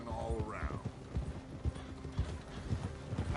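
Horse hooves clip-clop in steady, fairly close rhythm in Red Dead Redemption 2, with a brief whinny near the start and faint game ambience behind.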